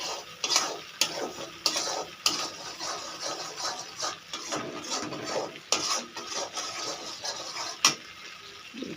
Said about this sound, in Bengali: মশলাটা কষা হোক